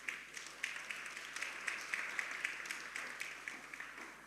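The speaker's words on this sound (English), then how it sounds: "please give them a warm round of applause." Audience applause at a ministerial development forum for Latin America and the Caribbean, steady moderate clapping from a seated crowd in a hall, sustained without a break for several seconds.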